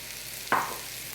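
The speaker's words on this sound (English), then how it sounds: "now that I'm ready to saute everything" Mushrooms dropped into a hot pan for sautéing, one sharp burst of sizzle that quickly fades into a low steady hiss, heard alone without talk.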